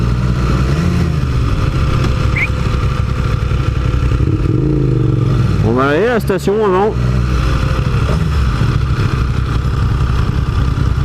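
Motorcycles idle at a motorcycle rally, a loud steady engine rumble running throughout, with a person speaking briefly over it midway.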